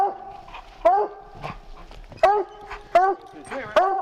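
Tied-up hunting dogs on a mountain lion hunt in Colorado bark and yip in sharp, repeated bursts roughly every second, close and excited, with whimpering between the barks.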